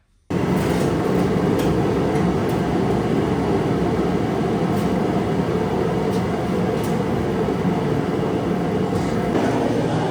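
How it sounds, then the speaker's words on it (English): A loud heater runs in a garage, giving a steady, broadband roar that starts abruptly and holds at a constant level throughout. "I had the heater on, but it's really freaking loud"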